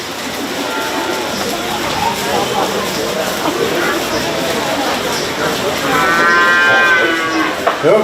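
Bottle calves mooing at a 4-H county fair show, several drawn-out calls, the loudest near the end, over a busy crowd murmur and a person talking.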